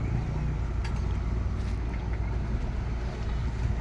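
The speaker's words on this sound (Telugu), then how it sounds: "గోదావరి పడవలు." A Godavari river boat at Narasapuram in West Godavari passes by, its motor a steady low rumble with wind and water wash. It is continuous and fairly near, and no one speaks.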